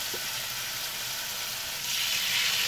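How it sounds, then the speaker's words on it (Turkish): Lokum-style meat sizzles in hot olive oil in a frying pan, a steady, close hiss of frying that swells slightly louder near the end, with no talking. "Tava iyice kızdıktan sonra zeytinyağını eklerseniz bu şekilde bir ses çıkmasını sağlayın."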